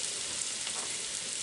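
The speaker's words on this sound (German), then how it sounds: "So, hier ist jetzt die Pfanne. Die Zwiebel ist jetzt schon gut angebrutzelt." Onion fries in a pan for borscht, giving a steady, even sizzle throughout at moderate level with no voices.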